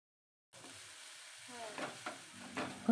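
Chowmein stir-fried in a pan, entering after a moment of silence as a soft sizzle with a few scraping stirs of the spatula, faint and close.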